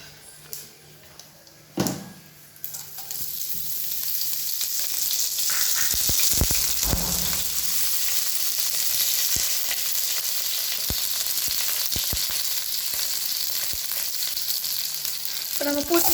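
Pumpkin pieces fry in hot oil for buttermilk kuzhambu, starting with a few clanks and a sudden loud splash, then settling into a steady, close sizzle with scattered utensil taps and stirring scrapes.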